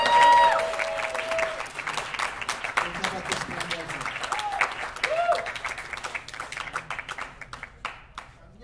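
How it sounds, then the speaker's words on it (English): Audience applause at a spring coffeehouse event, a dense burst of clapping that starts loud and gradually thins out over several seconds, with some cheering mixed in. "Can we please give him a big round of applause, Nick?"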